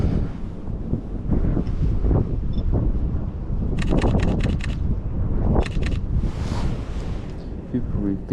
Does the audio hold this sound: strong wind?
yes